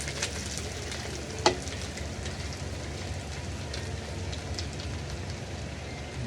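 Ground meat and garlic sizzle in a frying pan with a steady crackling hiss. A single sharp clink is heard early on, and no one speaks.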